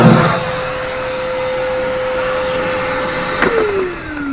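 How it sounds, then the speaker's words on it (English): A small cordless handheld vacuum cleans spent pellets and ash out of a smoker, running steadily at close range with a constant whine, then its motor pitch drops as it starts winding down. "I'll vacuum out the inside the inside of this thing."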